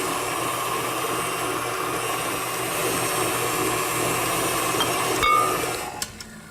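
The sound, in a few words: electric mixer beating eggs into batter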